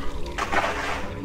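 Water sloshes and rushes in a flooded area of the horror game Cry of Fear, with a burst of splashing and gurgling that swells mid-clip over a low background rumble.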